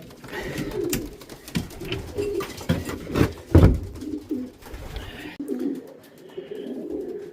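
Racing pigeons cooing inside a loft, overlapping low throaty coos and soft wingy shuffles from several birds nearby, rising to a louder burst midway, with no speech.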